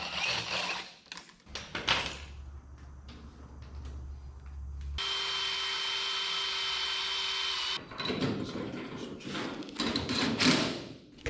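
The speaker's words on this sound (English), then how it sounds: "we just need to drill about a 5/16 or a 3/8 hole up here for our lags to go through" Power drill boring a 5/16 or 3/8 inch hole through a scrap steel bracket for lag bolts in a shop, a steady whine of about three seconds between clunks and handling noise.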